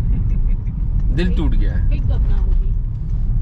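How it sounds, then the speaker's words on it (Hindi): Heavy road traffic in a slow jam, with a constant low rumble of engines around a vehicle and someone speaking briefly over it. "आज बहुत ज़्यादा ट्रैफिक है"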